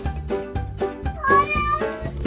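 A cat meows repeatedly, four or five loud, close drawn-out cries in a steady rhythm with no other sounds around them.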